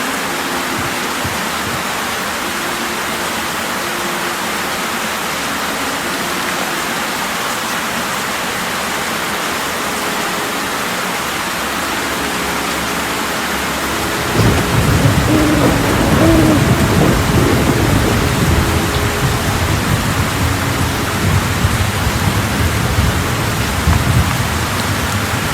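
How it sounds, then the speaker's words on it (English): Rain and thunder in the video game Black Mirror 3: steady hissing rainfall, then a deep rolling thunder rumble swells midway and keeps the downpour louder and heavier afterward. "Rain, rain, go away."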